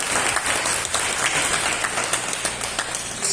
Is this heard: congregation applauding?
yes